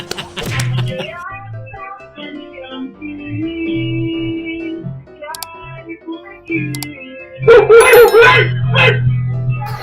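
A dog yips and whimpers over tonal background sounds, with a burst of sharper barking near the end.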